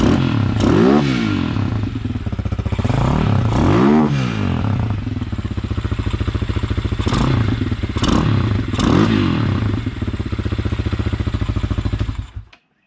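A Honda Hawk 250 fitted with a Loncin RE250 engine swap and a Nibbi PE30 carburetor runs loud and close, its engine revving up and down in repeated surges with mechanical clatter before cutting off abruptly at the end.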